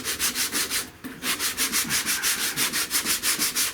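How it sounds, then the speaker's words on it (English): 80-grit sandpaper scrubs back and forth over a rusted car quarter panel in fast, even strokes, a loud rhythmic rasp with a brief pause near the start. "I'm trying to sand till I start seeing this blend in down here."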